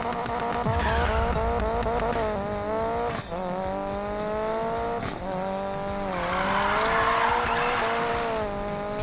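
A race car in NFS Payback's Speed Cross series roars at high revs, with rising and falling engine pitch, gear shifts, and tire squeal through long drifts, loud and continuous with no speech.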